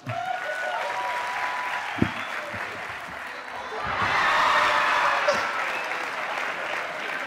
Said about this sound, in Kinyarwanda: Mu nkomera amashyi.